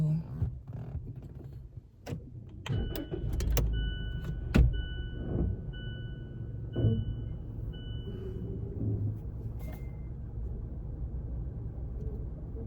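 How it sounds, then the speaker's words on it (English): A car is being moved, its engine idling low under a few sharp clicks and clunks, with a power window motor whining steadily for several seconds in the middle; faint rustling throughout. "I'm moving my car"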